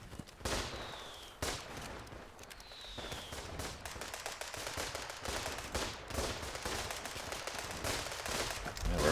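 Enemy rifle and machine-gun fire crackles in a trench warfare video game, rapid bursts of close and distant shots with whizzing rounds overlapping in a dense, continuous battle din, without talk.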